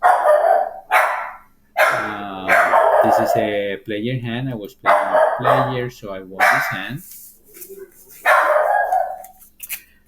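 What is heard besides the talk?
dog barking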